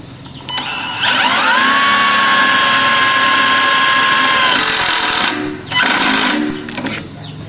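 A Dongcheng cordless impact driver drives a screw at speed level 2, giving a loud, steady motor whine that rises and holds for several seconds, then short bursts of whirring as the trigger is released and pressed again.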